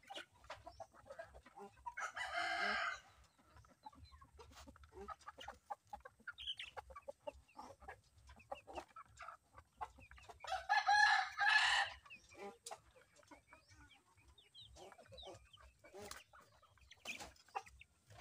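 Cobra breeder chickens cluck steadily throughout, with a rooster crowing loudly twice, once near the start and again midway, over a low farmyard hum.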